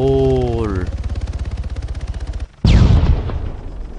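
Rapid automatic gunfire rattles steadily in Arma 3, close and loud after a brief engine-like tone, then a sudden heavy explosion bursts in and its roar tails off.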